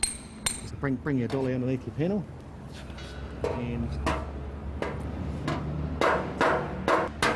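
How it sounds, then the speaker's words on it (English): A panel beating hammer strikes a car body panel held over a dolly, producing a string of sharp metallic clinks and taps with ringing tones, close by, with someone talking between the blows. "when you're hitting the dolly, you'll hear the sound of the dolly underneath"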